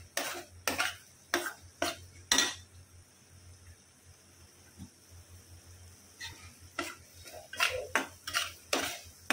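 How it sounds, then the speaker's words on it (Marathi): Masala spices stirred in a pan for shahi paneer: repeated scraping, clinking strokes of a spoon against the metal in short bursts, with a quieter stretch in the middle and no talk. "छान मिक्स करून घेऊया मसाले"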